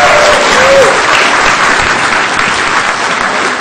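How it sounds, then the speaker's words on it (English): A city council meeting audience gives a loud, sustained round of applause for a longtime member, dense clapping filling the room at steady intensity without a break. "Let's give this guy a big round of applause"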